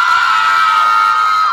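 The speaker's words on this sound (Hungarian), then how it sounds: "csak a lányoktól 3-ra hallatunk egy nagyon nagy sikítást" A crowd of girls screams loudly and shrilly on a count of three, one sustained, piercing burst of massed voices that holds steady for its whole length.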